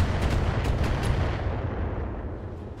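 Long-range missiles pummel a mech in BattleTech, a dense, loud rumbling barrage of overlapping explosions and thuds that slowly eases off over a few seconds.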